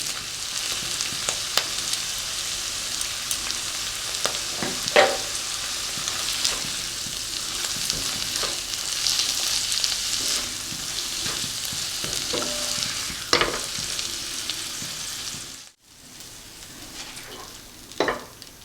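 Potol dorma stuffing frying in a pan until it dries out, a steady close sizzle broken by spoon-scraping strokes, with a brief dropout near the end before the sizzle resumes.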